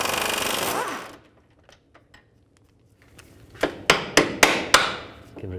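On a 2003-10 BMW X3, a hammer taps the end of the front CV axle in a series of five or six sharp metallic knocks after a burst of tool noise and a quiet pause.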